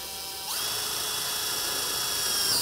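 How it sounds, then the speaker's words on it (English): A power drill spins up and holds a steady high whine while driving a fastener through metal gable trim on an R panel roof, close and fairly quiet, with no talking. "go ahead and put your fasteners in on the top of the cell"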